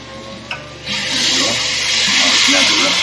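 Water pumped from a water dispenser at an outdoor fishing camp cook: a small click, then a steady rushing flow that starts within the first second and runs on, loud and close.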